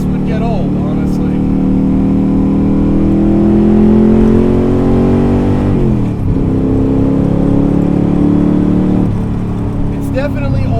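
A Superformance 1965 Shelby Daytona Coupe's engine pulls hard and loud through rising revs, dips briefly around a gear change, then climbs again, with a voice talking over the drone.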